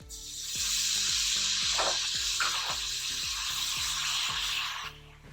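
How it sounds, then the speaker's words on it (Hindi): Water added to a pan of sizzling Lahori khoye wale chickpea masala gives a loud, steady hiss and sizzle that swells quickly, holds for several seconds, then fades near the end, with no talking. "ये पानी मैंने फिर डाल दिया इसको"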